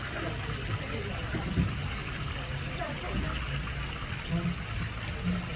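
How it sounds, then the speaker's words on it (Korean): Steady flowing water fills a hanok cafe in Ikseon-dong, Seoul, a continuous wash of trickling and splashing with faint voices murmuring in the background. "흐르는 물소리를 듣고 있으면 여기가 서울 한복판이라는 사실도 잠시 잊게 될 정도예요"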